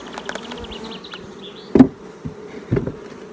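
Honeybees from a small caught swarm buzz steadily at a hive, with a close, low hum and a few louder passes from individual bees flying near.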